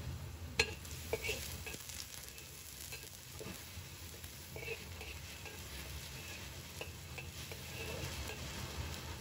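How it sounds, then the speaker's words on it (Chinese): Ginger and garlic stir-fried in hot oil in a wok, a steady close sizzle and crackle with scattered clicks and scrapes of a spatula throughout, no talking. "把姜蒜末放入锅中，煸炒出香味"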